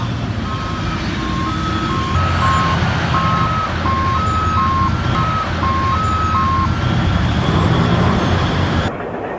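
Mining loader and haul truck reversing at a heavy steel operation, steady alternating backup beeps repeating over a loud continuous engine rumble and site noise, ending abruptly.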